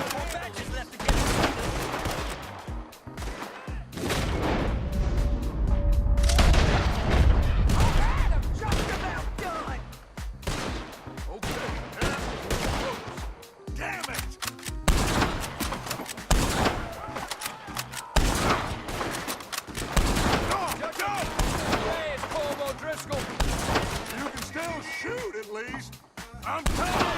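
Gunfire in a Red Dead Redemption 2 shootout with O'Driscolls: dense, repeated shots and volleys crackle for the whole stretch, loud and close, with shouting voices mixed in.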